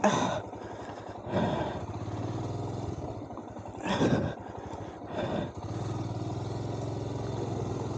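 A Royal Enfield Himalayan motorcycle rides the Wiltshire Ridgeway byway, its engine holding a steady, close drone. The sound swells briefly a few times as the rider works over the rough track.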